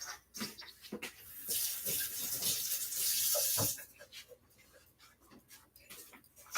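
Water runs from a kitchen tap while food is rinsed for a quinoa lime mint salad, giving a steady hiss that swells for a few seconds among intermittent clinks and handling noises nearby.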